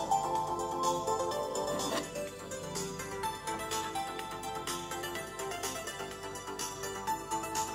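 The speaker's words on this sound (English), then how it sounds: "Let's play some up-tempo arcade music and listen to the difference." Up-tempo arcade-style music plays through a small 3D printed phone amplifier, a steady, dense tune with bright tones running continuously at moderate volume and no talking.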